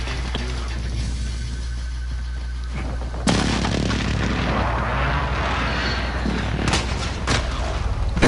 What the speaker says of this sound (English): Enemy precision airstrike now.